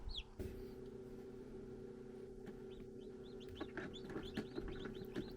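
Newly hatched chicks in an egg incubator peep in quick, high chirps scattered across the clip, fairly faint, over a steady low background hum.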